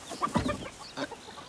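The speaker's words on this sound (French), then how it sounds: "Je déteste les poules." Hens on a farm let out a few short clucks in quick bursts, close and fairly clear, with no talking over them.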